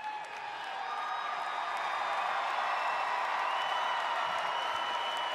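A Chicago arena crowd at WWE Raw cheers and applauds in a broad, sustained roar that swells early and holds steady at full volume.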